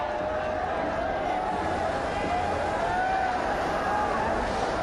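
A packed cricket crowd roars and applauds the Indian captain's match-winning innings, a steady, continuous wash of stadium noise with a faint tone running underneath.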